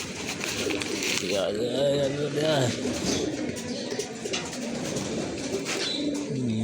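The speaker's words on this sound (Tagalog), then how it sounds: "Batang bata yung ibon." Pigeons cooing in repeated soft, throaty phrases near a young racing pigeon being checked in, heard under steady talk from a man in a busy, noisy setting.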